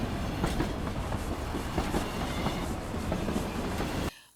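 A train rolling along the tracks, loud rhythmic clatter and rumble that continues steadily, then cuts off abruptly.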